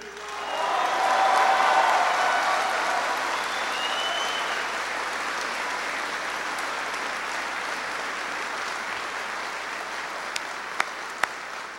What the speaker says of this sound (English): I want everyone to give a big round of applause to the amazing families who serve along with you.